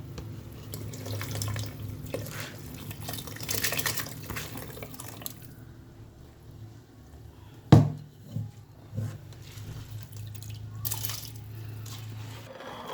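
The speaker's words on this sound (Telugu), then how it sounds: "ఇదిగో మసులుతుంది నీళ్ళు, చూసారా? ఇప్పుడు బియ్యం వేసుకుందాం." Water bubbling in a pot for chicken dum biryani, then rice tipped in with a sharp splash and clatter, followed by gurgling liquid sounds close by, with no talking.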